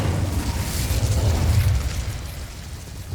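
Incendio fire spell cast in Hogwarts Legacy: a loud, low whooshing burst that swells for about a second and a half, then eases into a fading rumble, with no talking.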